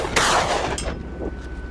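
A rifle fires at wild hogs on rough Texas farm terrain: one loud sharp crack followed by a second shot and rolling echoes that fade away, with no talking.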